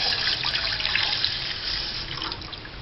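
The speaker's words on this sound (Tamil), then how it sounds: "இப்போ இந்த பாலை ஊற்றியாச்சு." Boiled, cooled milk is poured into a vessel, making a short, steady liquid splashing and trickling sound close by.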